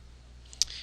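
A computer mouse gives a single faint right-click in an otherwise quiet room.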